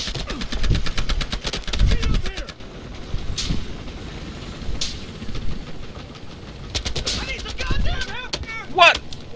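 Gunfire on the Dust Bowl map in a large Battlefield Hardline Conquest match: rapid bursts of automatic shots crackle for the first couple of seconds, a few isolated cracks follow, and another dense volley comes near the end.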